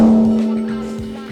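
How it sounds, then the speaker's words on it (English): A tom drum struck once after tuning, giving a single clear pitched tone that sustains and slowly decays, close and fairly loud. "So I'm gonna hit the drum again, see where we're at."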